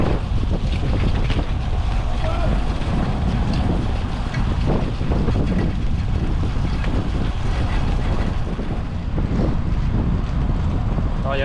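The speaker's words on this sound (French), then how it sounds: "Alors il y a pas mal de vent" Heavy crosswind buffets the microphone during a long-distance bike ride, constant low roaring gusts, loud and unbroken throughout.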